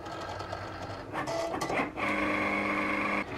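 A Cricut cutting machine slices vinyl with a steady mechanical whir and shifting motor tones, pausing briefly before settling into a continuous, fairly close drone with no talking.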